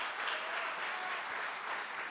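Congregation applause during a Sunday worship service at a church in Batam, a continuous, even wash of many hands clapping at moderate volume with no break.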